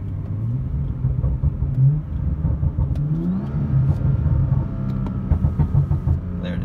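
A BMW F30 335i with a catless downpipe accelerates hard in Sport Plus mode with manual paddle shifts, its exhaust a loud, deep, droning roar that climbs in pitch through the pull, heard steadily from inside the car.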